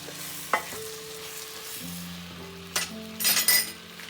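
A spoon stirs aubergine curry with turmeric in a pan, giving a soft sizzle with a few clinks and scrapes against the metal that build into a brief louder stir near the end.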